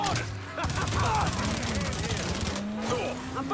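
Gunfire in the Mafia video game, rapid bursts of machine-gun fire rattling in quick repeated shots over a continuous din, with engine hum beneath and voices shouting in the mix.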